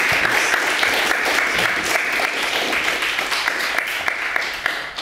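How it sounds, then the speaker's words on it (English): A lecture audience gives a sustained round of applause, steady loud clapping from many people throughout, tapering a little at the close. "So let's give them a round of applause."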